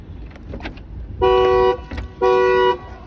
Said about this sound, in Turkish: Herhangi bir kapıyı açtığımız zaman korna ötecek arkadaşlar.